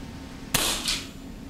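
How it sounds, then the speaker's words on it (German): An FX DRS Pro air rifle is fired once from a prone position, a single sharp close crack with a brief second report trailing just after, over a steady background hum. "Und dann machen wir mal den ersten Schuss."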